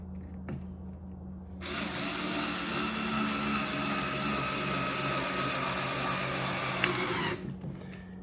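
A power driver spins small star (Torx) bolts on a Ryobi 40V expand-it weed eater battery: one steady, loud whirring burst lasting about six seconds, alone, with a brief quiet lead-in and a soft click near the end.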